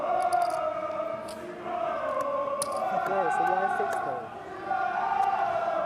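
A sold-out crowd of Brazilian supporters at a World Series of Poker $10,000 GGMillion$ High Roller event, Day 3, cheers and chants loudly and continuously, with a sustained, singing-like roar that dips briefly before swelling again.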